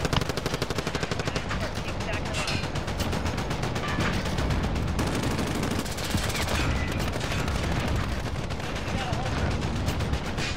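Dense, rapid gunfire from a first-person video game shooter, continuous and loud for the whole stretch, with bursts of automatic fire and scattered single shots. Talk sits faintly underneath.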